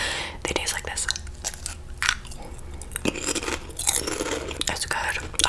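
Crunchy bites and chewing of sour cream and onion potato chips, close and crisp, with repeated sharp crunches and soft mouth sounds throughout.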